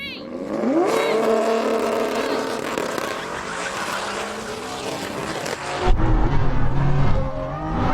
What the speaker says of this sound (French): On commence par le drag race et pour pimenter le tout, on ne chauffe pas mes pneus.